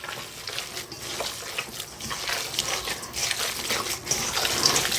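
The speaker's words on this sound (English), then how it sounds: "I'm going to start mixing it." Wet squishing and kneading as seasoning and cure salt are worked by hand into ground meat for summer sausage, a steady, moderately quiet, close-up churning with no talk.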